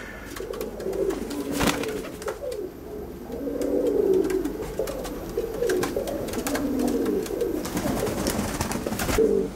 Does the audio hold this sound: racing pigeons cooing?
yes